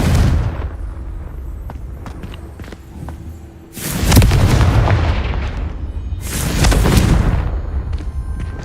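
Confringo fire spells cast in the Hogwarts Legacy video game erupt as two loud, roaring booms a couple of seconds apart, each a broad blast that lingers and slowly fades, following a low rumbling stretch with faint clicks.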